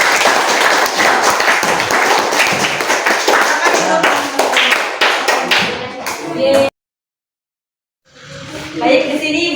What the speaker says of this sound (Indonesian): Kita kasih tepuk tangan dulu untuk teman-temannya.